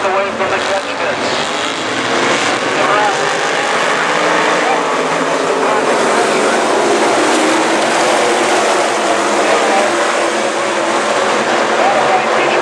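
Modified race cars circle Kil Kare Speedway in a continuous dense engine roar with a steady, even level, many motors blending together throughout.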